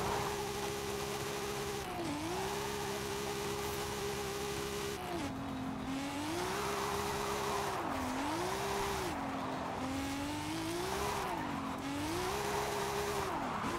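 A Nissan 200SX S14 drifts hard in Forza Horizon 5, its engine note rising and falling in steady sweeping waves while tires squeal continuously through repeated slides, loud and close with no talk.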